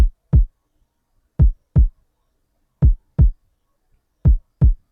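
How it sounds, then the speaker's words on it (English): A layered kick drum for a hip-hop beat thumps alone in four evenly spaced pairs of deep, punchy hits with short decays and silence between them. "So I went ahead and layered it with this kick."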